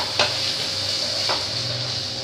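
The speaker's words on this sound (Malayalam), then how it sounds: "അപ്പോൾ ഞാനിതിലേക്ക് സവാള വാട്ടാൻ പോകുന്നു" Onions and other ingredients sautéing in a pan on medium flame for a spicy chicken hotdog kurma, a steady soft sizzle broken by two brief stirring scrapes, close and with no talk.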